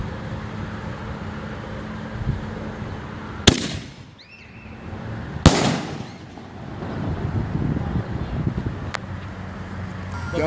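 Outdoor 60-gram canister shell fireworks: two sharp, loud explosive booms a couple of seconds apart over steady wind rumble and murmured voices, followed by a fainter crack.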